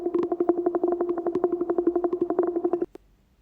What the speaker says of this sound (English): some drone loop